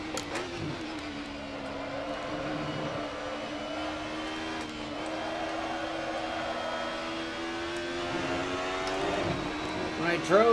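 An Audi 90 touring car from the 1990s DTM series, simulated in Assetto Corsa at Mugello, holds a sustained, buzzing engine drone whose pitch drifts and rises with throttle, growing louder at the end.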